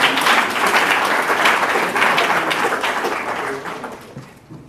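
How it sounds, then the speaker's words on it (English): Audience applause for a presenter at a conference session, loud dense clapping from a crowd that holds for several seconds and then tapers off to quiet. "Let's give him a applause."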